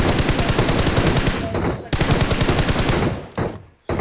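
Rapid automatic gunfire in the PUBG Mobile battle royale game, loud, continuous bursts of shots in fast succession with two brief pauses, close and dominant.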